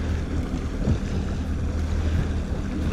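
A fishing boat idles on a lake while its crew searches for bass, a steady low motor rumble with wind buffeting the microphone throughout.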